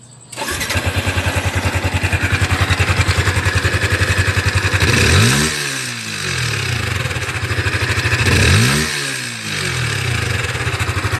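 A Yamaha Sniper 155 motorcycle engine with a worn cam bearing idles with a steady rapid ticking knock, revving up twice with rising and falling swells, loud and close, no talking.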